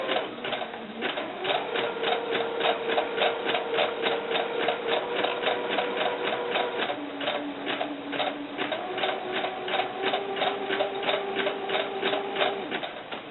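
A sewing machine stitches curled fishing line in a steady, rapid mechanical chatter of even needle strokes, with a faint humming tone that shifts pitch now and then, running close and continuous with no pauses.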